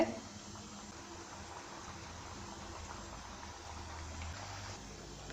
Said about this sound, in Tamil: மீடியம் ஃப்ளேம்லேயே வச்சு நல்லா பொறிச்சு எடுத்துக்கோங்க